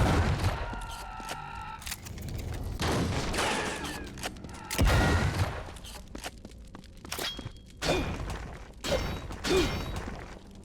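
Gunfire from the retro-style shooter WRATH: Aeon of Ruin, with loud, close, heavy shots fired in irregular bursts, mixed with mechanical clanks and footsteps between volleys and no talk.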